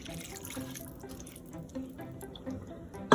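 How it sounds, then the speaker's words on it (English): Water, half a cup, poured into a tourtière meat filling mixture in a pan on the stove, giving a steady liquid splashing and trickling sound through the whole moment, with no talking. "And then comes my water, 1/2 cup of water."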